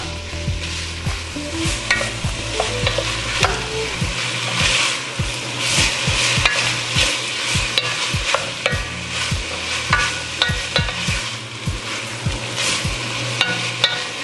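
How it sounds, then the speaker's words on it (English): Garlic and vegetables sautéing in a pan for black-eyed peas, a spatula scraping and tapping repeatedly in an uneven rhythm over a continuous close sizzle, with no voices. "I'm gonna drop that garlic in on top so it doesn't burn. Go around and get all these edges. We're gonna get that sauteed up"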